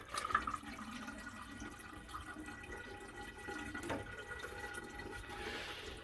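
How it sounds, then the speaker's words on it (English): Water gushes and gurgles as it drains from an opened plumbing pipe, a steady trickling wash with faint drips, fairly quiet and with no talk over it. "I'm just going to open it, and that's going to drain the water."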